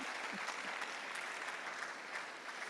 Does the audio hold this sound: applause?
yes